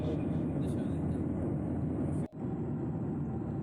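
Steady, loud cabin roar inside an airliner in flight on a route from Sylhet to Qatar, a constant broadband rumble with one brief dip partway through, no voices.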